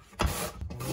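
Radish being grated by hand on a grater for a seasonal radish-and-oyster side dish, heard as close, rough rasping strokes, one strong stroke followed by continued scraping.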